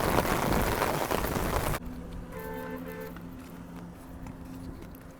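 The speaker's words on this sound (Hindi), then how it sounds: "बारिश लगी है दबा के" Dense heavy rain hisses loudly for about two seconds, then cuts away to quieter ambience with faint tones and light rain noise.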